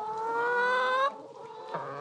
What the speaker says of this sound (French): Des poules élevées en plein air.